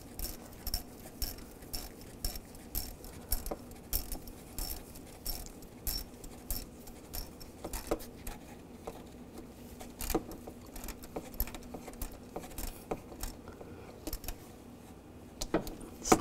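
A bolt on a 2011–2015 Chevy Cruze oil filter housing is tightened down with a hand tool, giving a quiet run of close, repeated metallic clicks and ratchet ticks in an uneven rhythm over a low hum, with no voices.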